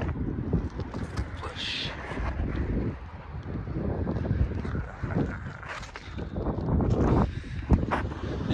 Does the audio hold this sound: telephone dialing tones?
no